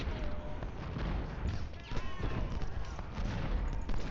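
Musket and cannon gunfire on a Civil War battlefield in Ultimate General: Civil War, scattered crackling shots and low booms spreading across the field as a sustained fusillade, with faint tonal effects above.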